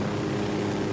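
A video-game helicopter in Ghost Recon Wildlands gives off a steady, loud engine and rotor drone that fills the whole second without a break and without voices.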